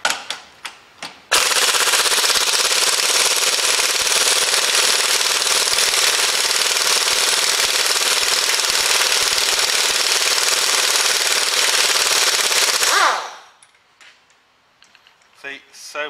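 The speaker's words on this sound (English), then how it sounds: "Easier with an air gun." An air impact gun rattles continuously for about twelve seconds, loosening a track rod end nut on a Renault Master van in a garage, with short bursts before and a few faint clicks and handling noises after.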